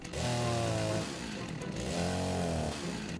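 A chainsaw in the video game Rust revs in two loud pulses, rising and holding with a rough buzzing drone and then dropping back to idle between them.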